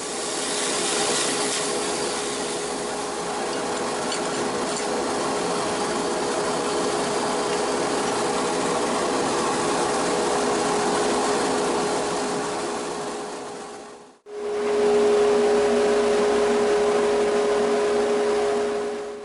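A jointer planes the edges of wooden clock pieces, a steady, close rushing cut with a machine hum that stops briefly near the end and then resumes, with no talking.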